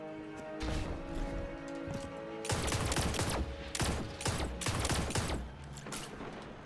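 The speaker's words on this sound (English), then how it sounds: "I wonder what it sounds like when we fire it." A weapon firing in Destiny 2 Forsaken, rapid bursts of loud gunfire with a sharp, slightly pew-like character, several volleys in quick succession with brief pauses between.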